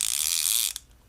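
Metal-bodied baitcasting reel, a Kastking Rover 60 or Ming Yang CL60, its clicker knob engaged and giving a steady, close, bright ratcheting buzz that cuts off abruptly near the end, leaving a faint single tick.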